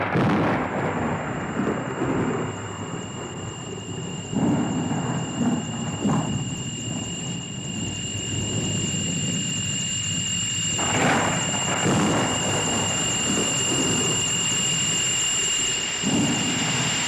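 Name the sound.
rain and thunderstorm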